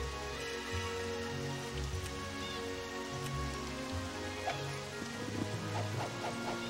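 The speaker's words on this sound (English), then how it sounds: "It was already raining." Steady rain patters continuously in the PS2 game Disney Golf, a soft even hiss with game music tones running underneath throughout.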